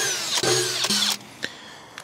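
Power drill boring holes for a Smittybilt 17500 winch mounting on a trailer, a loud high whine with brief dips and pitch shifts, then easing to a quieter spin-down.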